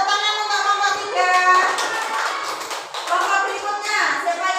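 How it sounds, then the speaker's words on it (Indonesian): A classroom of elementary schoolchildren claps for a student group, a dense, steady patter of many small hands that continues throughout, with children's voices mixed in. "Tepuk tangan untuk kelompok 3"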